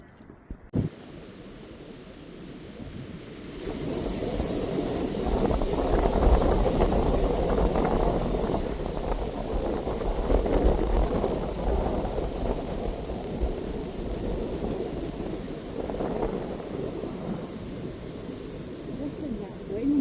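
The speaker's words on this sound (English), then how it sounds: "Listen, that wind. Beautiful sound, isn't it?" Wind blows through trees beside a reservoir in winter, a broad steady rushing that swells and fades over about twenty seconds, with some talk and microphone buffeting.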